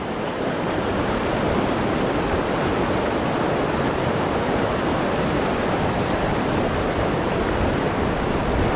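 A mountain stream along a roadside in Xaysomboun, Laos, a dense, steady rush of flowing water that stays close and even for the whole stretch, with no voices.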